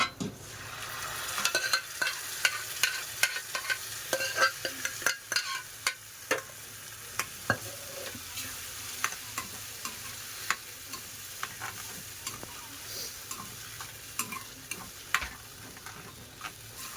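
Cooked dal stirred into a pan for dal khichdi, with a steady sizzle under repeated sharp scraping ticks of a spoon against the pan, close and fairly loud, with no talking.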